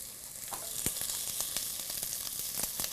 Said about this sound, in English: Our onions are starting to brown.